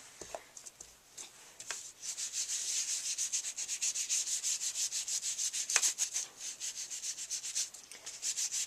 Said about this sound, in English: And just here and there rub these around.